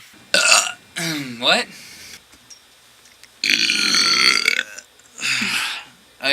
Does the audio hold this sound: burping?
yes